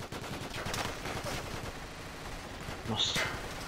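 Rapid bursts of minigun fire from Battlefield 2, dense and continuous, with a voice speaking over the shooting.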